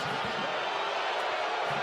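Crowd at a USL playoff soccer match between Sacramento Republic and LA Galaxy II, an irate stadium roar rising in a steady wash of cheering and shouting, broad and loud throughout.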